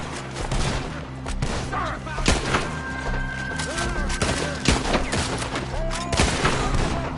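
Gunfire in Red Dead Redemption 2: repeated shots crack out at irregular intervals against a dense, busy game soundscape, with voices talking in between.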